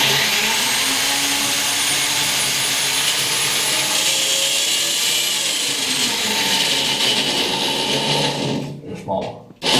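A power drill bores into wood in a home workshop with a loud, sustained whining motor drone. The drone stutters and drops away at the end, and a voice is faintly present.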